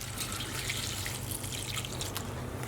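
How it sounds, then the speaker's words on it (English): Cold tap water runs into a bowl of cut raw potato chips, giving a faint, steady splashing and trickling with small drips throughout, heard alone. "what we're going to do is top this bowl up with cold water"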